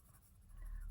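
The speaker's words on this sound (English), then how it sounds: "If I color on the black background, I think it will be with a, you know, a light yellow pencil." A light yellow Faber-Castell Black Edition colored pencil scratches softly across black paper, a faint, continuous close-up rasp of light strokes with no talking.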